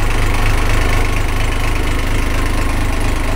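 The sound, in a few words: engine starting and idling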